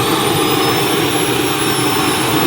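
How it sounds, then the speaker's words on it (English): A JetCat P220 turbine on an RC L-39 Albatros jet roars loudly and steadily with a high whine, then cuts off abruptly at the very end. "So what engine is in this aircraft? How is it powered? So this is the JetCat P220 engine."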